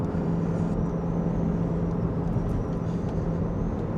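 A car cruising just under 40 mph on Pennsylvania Route 345, heard from inside as a steady, loud engine hum and road rumble with no breaks.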